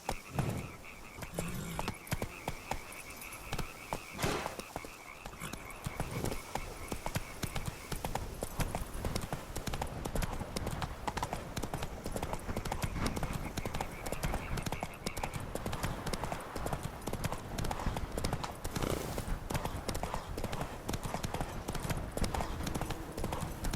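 Roach, the horse in the video game The Witcher 3: Wild Hunt, galloping in a fast, steady rhythm of hoofbeats that carries through the whole stretch, with brief spoken commands to the horse over the hooves.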